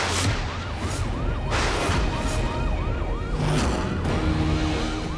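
A wailing siren cycles rapidly up and down, loud and steady, over a constant rumble of traffic.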